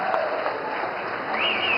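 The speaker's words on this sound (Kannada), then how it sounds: "ಮತ್ತೊಮ್ಮೆ ಜೋರು ಚಪ್ಪಾಳೆಯ ಧನ್ಯವಾದಗಳೆಲ್ಲ ಅರ್ಪಿಸೋಣ" Brief burst of crowd applause at a Dasara festival inauguration gathering, dense and steady clapping with a faint whistle-like tone running through it.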